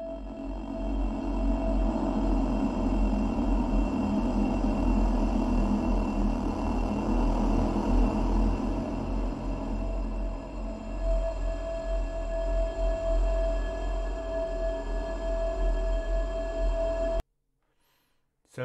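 Granular synthesis processing of a glass sound: a dense, continuous wash of grainy texture with a steady ringing tone, holding thick for most of its length before cutting off abruptly near the end, with no voices.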